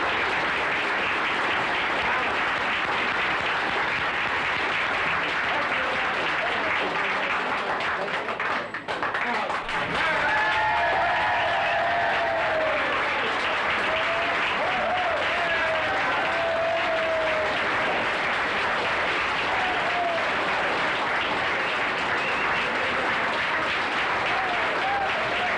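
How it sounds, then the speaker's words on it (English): A theatre audience at a 1972 comedy stage show breaks into long, sustained applause that fills the room, with a voice speaking over the clapping partway through. "I would like a very nice round of applause for this very lovely girl"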